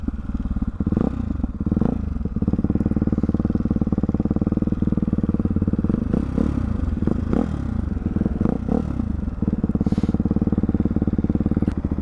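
A motorcycle engine fitted with a Hyper 698 S1 titanium exhaust idles roughly up close, its throttle blipped several times so the exhaust note rises and falls.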